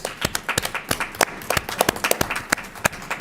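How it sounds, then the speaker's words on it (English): A small group claps at a school board of education meeting, a thin, uneven patter of individual hands close by, lasting a few seconds with no talking. "I would like to give Brett a round of applause, please."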